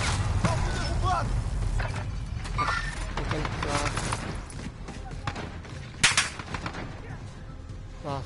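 Rapid automatic gunfire from Call of Duty Warzone Season 5 rattles in repeated bursts, with one sharp louder shot near the end, all under ongoing game sounds and a voice speaking.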